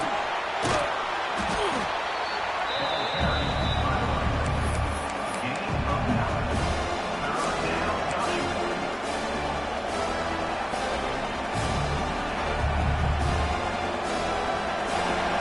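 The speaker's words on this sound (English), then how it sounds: "And here comes the noise. This crowd is trying to inspire this defense" A constant roar of a large stadium crowd in an American football video game, with occasional heavy thuds and low booming swells, loud and unbroken throughout.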